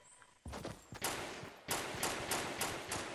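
Gunfire in Fortnite: a few spaced shots, then a quicker run of loud, evenly paced bangs, close by with no talk over them.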